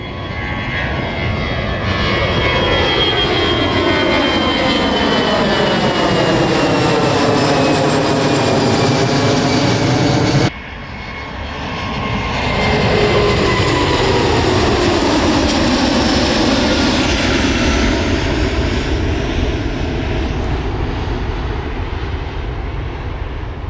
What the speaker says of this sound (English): Boeing 737 MAX taking off out of Miami on its way to Chicago